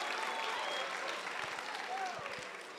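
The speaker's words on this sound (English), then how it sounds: "Can we give them another round of applause?" Applause from an audience following a series of performances at a school event, steady broadband clapping sustained throughout and fading slightly at the end, with faint voices mixed in.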